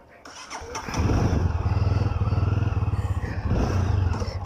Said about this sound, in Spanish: vamos a ingresar la motocicleta